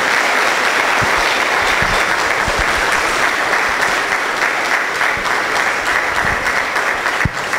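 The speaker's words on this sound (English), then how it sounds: "Guys, one more round of applause" Loud, sustained applause from a large audience at a talk on mastery of space and self-awareness, steady dense clapping filling the whole stretch without a break.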